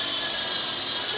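An MJX X645 four-channel fixed-pitch RC helicopter in flight, a loud, steady high whine and rotor hiss with no breaks and no voices.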